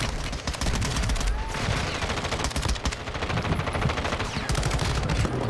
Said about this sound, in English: He's getting shot from behind right now.